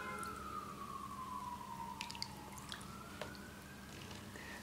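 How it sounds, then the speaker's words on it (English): An emergency vehicle siren wails outside on a rain-soaked day, its long pitch sweep falling then rising again, distant and steady beneath faint fizzing, dripping and small clicks nearby. "Oh, the siren's going off."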